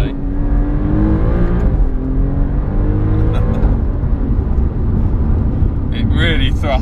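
An Alfa Romeo Giulia Quadrifoglio accelerates hard, its engine note climbing steadily and loud from inside the cabin, with a brief shift near the end as people talk over it.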